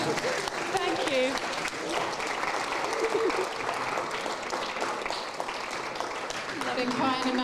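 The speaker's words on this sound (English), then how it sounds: "Give them a round of applause." Sustained applause from a large audience at a live book launch fills the room, with cheers and voices mixed into the clapping throughout.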